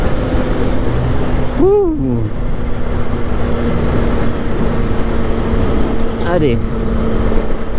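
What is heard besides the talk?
CF Moto 675 SR-R motorcycle engine and exhaust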